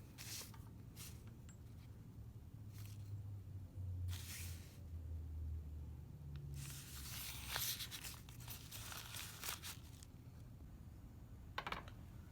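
Paper towel torn and crinkled while wiping up a spill in a chemistry lab during a density experiment, several short tearing and rustling bursts, quiet and close, no talking.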